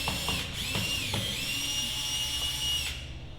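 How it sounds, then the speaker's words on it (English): A power drill whirs steadily as it backs out long screws from the cover of a Dometic Atwood RV furnace, a continuous close-up buzz with slight changes in pitch before it winds down. "we're using a drill just to make it go quicker"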